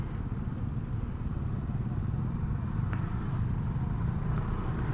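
Motor scooter with an automatic transmission, ridden through a heavily jammed road: a steady low engine hum mixed with surrounding traffic drone, continuous and close, with no voices.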